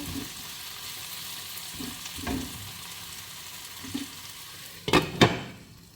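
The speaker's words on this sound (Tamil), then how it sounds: "ஒரு தடவை திறந்து மிக்ஸ் பண்ணி கொடுங்க" Tomato, potato and spinach mix cooking in a pan, with a low steady sizzle and a few soft stirring scrapes, ending in two louder sharp clatters of the spoon against the pan, close with no talk.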